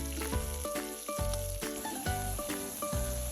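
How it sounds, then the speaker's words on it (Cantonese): Duck breast skin fries in a pan as its fat renders, giving a steady, soft sizzle under prominent plucked, gliding musical tones. "過咗幾分鐘之後咧，已經開始出咗好多鴨油，同埋陣皮咧已經開始慢慢煎香啦"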